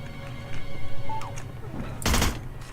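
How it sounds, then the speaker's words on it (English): Gunfire in the video game Hitman Blood Money: a loud, harsh burst of shots near the end, preceded by quieter game noises and a few small clicks, with no talking. "We are gun blazing through everyone."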